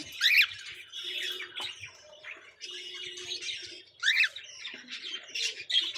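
Pet cockatiels calling in hot weather, repeated shrill chirps and squawks in irregular bursts, close and clear with no talking.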